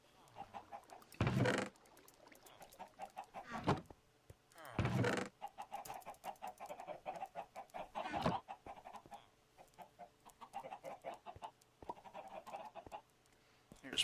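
Chickens clucking in the video game Minecraft: repeated short clucks and squawks, with several sharp loud bursts spaced through the clip, over a faint background and a voice talking.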